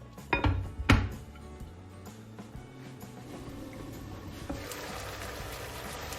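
Metal pot lid set onto a wok of simmering tomato and potato rice: two sharp clanks ring out close together near the start, then a soft, steady kitchen hiss follows.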